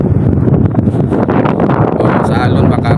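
Strong wind roars steadily at sea near a small fishing boat, a loud buffeting rush that fills the whole stretch, with a voice talking over it.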